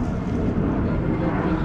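A fixed-wing airplane passes over a lake pier near an airport, a steady broad roar that fills the whole moment without breaks.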